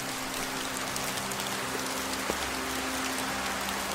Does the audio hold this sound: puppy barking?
no